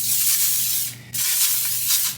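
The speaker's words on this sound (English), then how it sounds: "And I do use foil and spray it with some olive oil spray." Olive oil cooking spray sprayed onto aluminium foil for air-fryer cooking: two close, loud hissing bursts with a brief pause between them.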